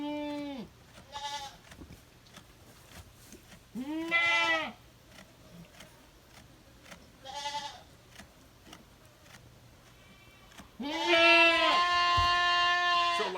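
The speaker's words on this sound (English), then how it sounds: "Pretty sure that's a sheep over there. That might be a goat. It's making a ton of noise." Sheep and goats on a farm give several loud, wavering bleats in separate bursts, with a long, strong call at the end, over a low steady hum and no talking.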